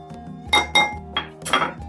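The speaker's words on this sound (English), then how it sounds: "So we're gonna add a quarter cup of monk fruit." A quarter cup of monk fruit sweetener goes into a bowl while making low-carb cinnamon tortilla chips, giving four sharp, close clinks of utensil against dish in quick succession.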